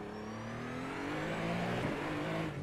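A car engine in a racing video game revs hard under full throttle, a loud sustained whine whose pitch climbs steadily with no talk.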